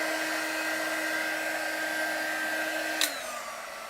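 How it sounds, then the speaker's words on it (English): Steady high-pitched blowing whine of a heat gun with a tiny nozzle running close by, drying paint, with a brief click near the end as the tone drops. "I'm still here with the heat gun"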